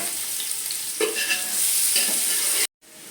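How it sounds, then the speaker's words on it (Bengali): Onions sizzle steadily in a hot pan while frying until browned, with a few stirring scrapes and clatters before it cuts off abruptly. "এবার আমি পেঁয়াজটাকে ভালো করে লাল লাল করে ভেজে নেব"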